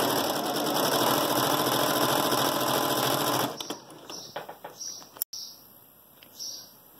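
A sewing machine stitches a 3D fabric face mask in a steady, loud whirring run for about three and a half seconds, then stops, leaving scattered small clicks and handling noises with faint bird chirps in the background.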